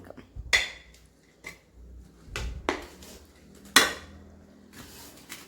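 Wheat flour dough for ottada is mixed with jaggery syrup in a bowl, producing sporadic clinks and scraping knocks of a utensil against the dish, close and fairly quiet, with gaps between strokes and no talk.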